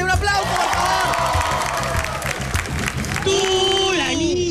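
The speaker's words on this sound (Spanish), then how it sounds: "Un aplauso, por favor." A studio audience on a comedy show claps and cheers loudly and steadily for several seconds, a dense wash of applause with whoops, while a presenter's voice rises over the crowd toward the end.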